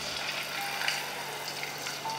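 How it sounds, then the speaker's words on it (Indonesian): Garlic-marinated chicken coated in batter fries in hot oil, giving a steady, close, continuous sizzle and crackle with no talking over it. "Lalu kita akan goreng bagian kulitnya itu di bawah ya"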